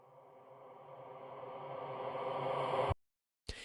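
A swelling, smeared wash of sound that builds steadily in loudness and then cuts off abruptly, like a sample played backwards, followed by a brief return.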